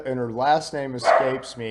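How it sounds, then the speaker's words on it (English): Dogs bark over and over in a home, loud close yips and woofs in quick bursts, blending with a person talking at the same moment. "Sorry for my dogs, but We all love dogs."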